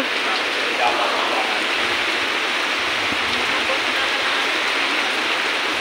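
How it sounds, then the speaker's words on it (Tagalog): A heavy rain downpour pours down in an even, dense hiss that holds steady throughout. "Buhos ng ulan na naman."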